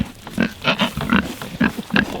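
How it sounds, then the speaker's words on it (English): A pig grunts in a farm setting, giving about six short rhythmic grunts close to the microphone at moderate loudness with no talking. "That is a happy pig right there."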